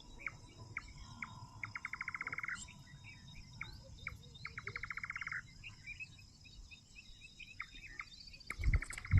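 Birds call and chirp at dawn around six in the morning, mixed with rhythmic trilling bursts of crickets or insects, moderately close, with a low rumble and a thump near the end.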